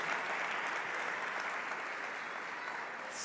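A church congregation breaks into steady, sustained applause for a young boy named Jorgito during a sermon, the clapping dense and even throughout, with no voices on top.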